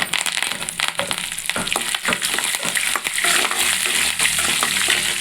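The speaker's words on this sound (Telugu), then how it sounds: "ఇలా వేయించుకొని కొంచెం కరివేపాకు వేసుకోండి" Curry leaves crackle and spit in hot oil for a tempering on low heat, a loud, close, busy sizzle with sharp popping bursts throughout and no talking.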